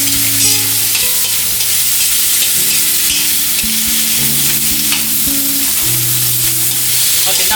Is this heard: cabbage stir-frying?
yes